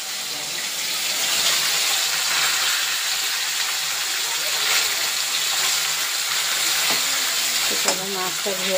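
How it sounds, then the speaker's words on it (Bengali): Fish frying in oil in a home kitchen, a loud continuous broadband sizzle filling the whole stretch, with a few faint clinks near the end and no speech. "চলো মাছটা ভাজা হতে থাক"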